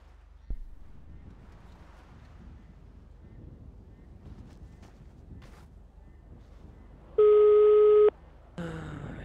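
In the GTA 5 video game, a short electronic telephone tone sounds during a call, a steady beep of about a second over faint background noise, then a brief burst of further sound.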